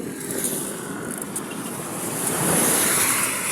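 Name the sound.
strong wind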